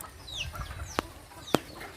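Chickens on a farm clucking softly at a distance, with two sharp close clicks or knocks and faint bird chirps in a quiet outdoor setting.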